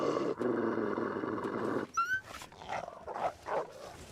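Dog barking in a video game set in Pleasant Valley: a sustained growling bark, then a sharp yelp and a few shorter barks, close and fairly loud with no talk over it.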